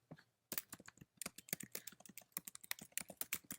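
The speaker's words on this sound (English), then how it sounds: "type out whatever link you want to add" Quick bursts of typing on a computer keyboard as a web link is entered, dense close clicks after a brief quiet start, with no voice over them.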